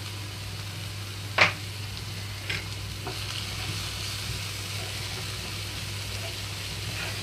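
Soaked chana dal frying in a pan with turmeric and salt, a soft, even sizzle throughout with a sharp clink near the start and a few faint stirring touches, close and without speech.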